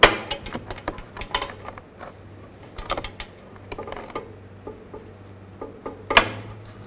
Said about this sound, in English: Now I'll take the O2 sensor socket and just snug this up.